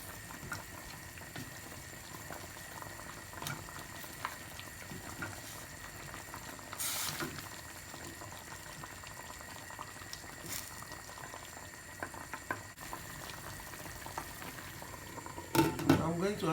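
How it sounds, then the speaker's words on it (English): A pot of turkey boiling in water for stock bubbles and simmers steadily at low volume throughout, with a faint clink or two and some handling noise near the end. "I'm going to allow the turkey to continue boiling, maybe for another 10 minutes."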